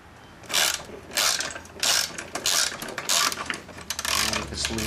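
A socket wrench ratchets on a training wheel bolt of a mini chopper in a garage, sounding as a series of about six close, clicking ratchet bursts in an even back-and-forth rhythm.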